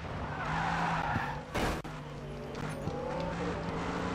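A race car engine in the video game GRID 2 whines with shifting pitch while tires screech briefly in the middle, all fairly quiet and without speech.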